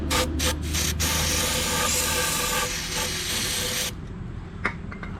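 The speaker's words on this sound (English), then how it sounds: "how about we throw some carb cleaner in there and we'll see if it fires off" Carb cleaner is sprayed into an old Craftsman 8 horsepower Briggs and Stratton wood chipper engine in several close hissing bursts, short puffs at first and then a longer steady spray that stops near four seconds.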